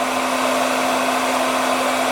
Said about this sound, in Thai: ความแรงลมเบอร์ 2 ของไดเป่าผม